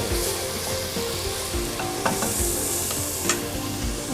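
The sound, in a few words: stirring garlic ginger paste frying in a pan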